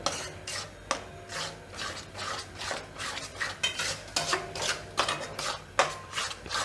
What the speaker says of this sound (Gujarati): હવે આને થોડીક વાર આપણે ગેસ પર રાખશું અને આ રીતે મિક્સ કરી દેવું ચાસણીને